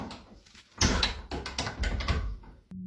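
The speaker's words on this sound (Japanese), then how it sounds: "扉から音がします。" A door makes several loud knocks and rattles in a quiet room at night, a cluster of sharp impacts after a near-silent stretch, ending in a low hum.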